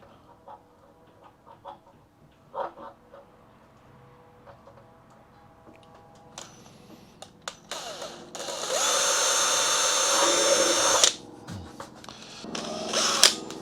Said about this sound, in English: So I'll drill a pilot hole.